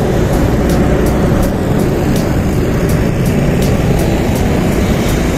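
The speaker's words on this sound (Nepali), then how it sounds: "यहाँ पनि यसरी अब ऊहरू प्लेन जाँदैछ" An airplane passes near an airport with a loud, steady, broad roar that stays close and unbroken throughout. No voices are heard.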